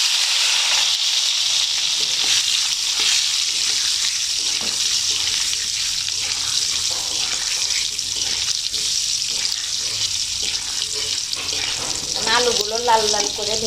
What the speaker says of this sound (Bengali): আমি চুলার আঁচটা বাড়িয়ে লাল লাল করে ভেজে নিচ্ছি, তাড়াতাড়ি হয়ে যাবে।